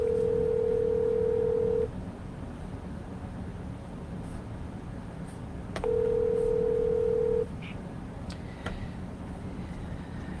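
Two long, steady telephone dial tones ring out loud and clear, each lasting about two seconds with a pause between them, followed by a few faint clicks and short tones of dialing.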